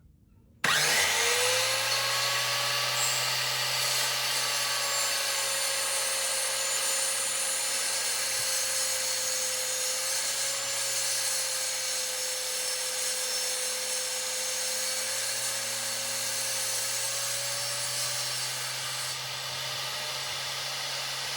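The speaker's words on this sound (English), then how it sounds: "Using my crosscut sled on my table saw, I'm going to clean up the edges," A table saw with a crosscut sled trims the edges of an end grain wooden cutting board. The motor spins up and holds a steady, fairly quiet whirring hum, with a faint shifting tone as the cut goes through, and no talk.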